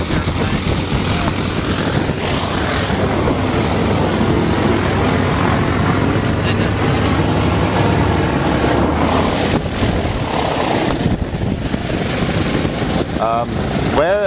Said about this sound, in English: we have to wait for this nice airplane to pass by here